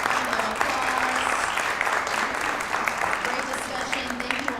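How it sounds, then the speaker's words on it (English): An audience applauds panelists at the close of a panel discussion on improving maternal health for Black women, a steady, dense clapping that holds at full strength throughout without pause. "Let's give our panelists a round of applause."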